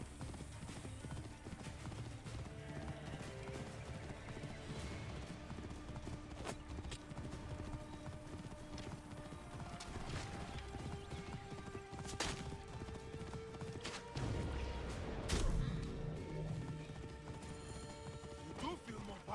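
Horse hooves clip-clopping at a steady riding pace in the video game Assassin's Creed Origins, quiet and continuous under game music and effects, with a brief heavier stretch of movement near the end and occasional talk over it.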